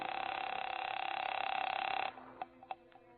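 In an old radio noir drama, a telephone handset gives a steady ringing or dial tone for about two seconds, followed by a few faint clicks and short tones, all quiet and somewhat muffled.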